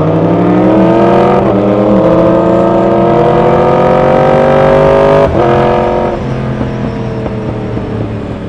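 A Suzuki GSX-S 1000 motorcycle fitted with a new aftermarket exhaust rides past close by, its loud steady engine note rising and shifting through gears with no talking.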